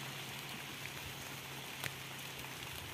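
Light rain beginning to fall outdoors on a plot where porang tubers are grown, a soft, faint, steady patter of drops with an occasional louder tap, no speech.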